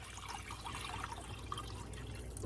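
Water is poured into a pan of drained beef, making a steady, soft splashing rush that lasts throughout with no other sounds.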